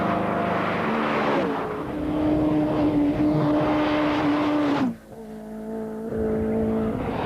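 Rally cars at the 1992 Donegal International Rally, including a Cosworth, race flat out in top gear, their engines holding a loud sustained high note before an abrupt drop and a quieter pass.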